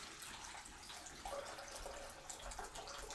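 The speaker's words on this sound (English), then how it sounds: "So I'm gonna pour it right in." Water poured into a plastic bag held over a pan, a soft, faint continuous trickle and splash lasting a few seconds with no talking.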